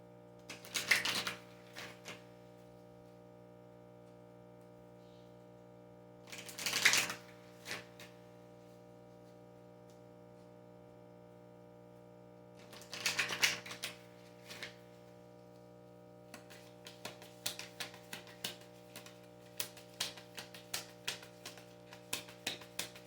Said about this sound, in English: let's pull some Kali cards, see what the goddess has to say about all this